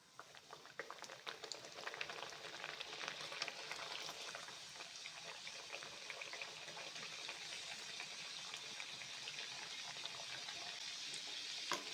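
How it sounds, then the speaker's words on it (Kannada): Karavarki, an evening snack, frying in hot oil while being turned until lightly browned; a steady, close bubbling sizzle runs evenly throughout with no talk. "ಸ್ವಲ್ಪ ಲೈಟಾಗಿ ಕಂದು ಬಣ್ಣ ಬರೋವರೆಗೂ ಫ್ರೈ ಮಾಡ್ಕೋಬೇಕು"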